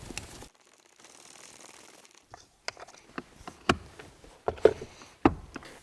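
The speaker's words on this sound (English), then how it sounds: "remove the shift knob by turning counterclockwise." A shift knob being unscrewed counterclockwise in a Nissan Skyline R33 interior, with a brief rustle followed by a series of sharp, close, irregular ratcheting clicks and ticks.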